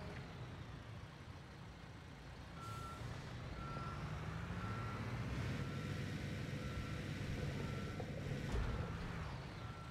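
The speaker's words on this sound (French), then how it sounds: "Je vais déplacer le camion." A heavy truck in the Construction Simulator game backs up on a house-building site, its reversing alarm beeping steadily through about ten seconds over a low, continuous engine rumble, loud and close with no voices.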